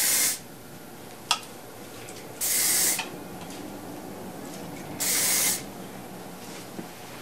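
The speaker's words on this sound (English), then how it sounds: "I'm just going to spray a little bit of Does It All" Two short bursts of hairspray hiss out, about two seconds apart, close and loud against a quiet room, sprayed onto a bridal up-do.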